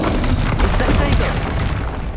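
An Incendio fire spell cast in the video game Hogwarts Legacy, heard as a dense, loud burst of crackling, rumbling impacts that runs continuously through the whole moment, with a voice briefly present.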